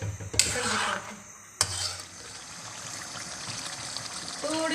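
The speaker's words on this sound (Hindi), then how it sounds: "थोड़ी सी बस पानी डाल रही हूँ मैं, तकरीबन 5-6 टेबल स्पून।" A short splash of a few tablespoons of water hits a hot pan of chicken karahi, followed by a steady sizzling and bubbling hiss in a kitchen.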